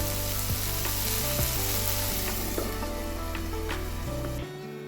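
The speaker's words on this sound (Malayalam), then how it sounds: "ഈ തക്കാളി നല്ലോണം ഒന്ന് കുഴഞ്ഞ പരുവത്തിൽ വെന്ത് വരണം" Tomatoes for a tomato coconut chutney cooking in a covered pan, giving a steady, close sizzle and bubbling hiss that holds evenly throughout, with no talking.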